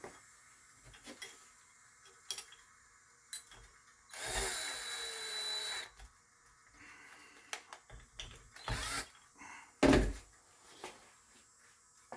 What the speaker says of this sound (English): Get the tank bolted up.